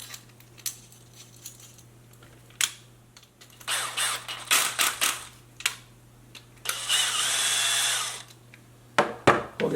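Power tool driving a bolt into a metal Losi 5ive-T A-arm, brief whirring spurts followed by a longer steady run, with clicks and tool handling in between under a low constant hum.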